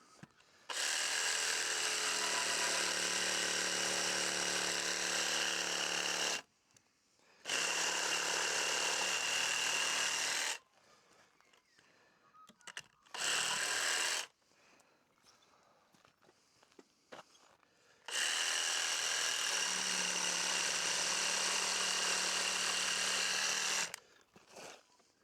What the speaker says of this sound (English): We can finish that off with the jigsaw.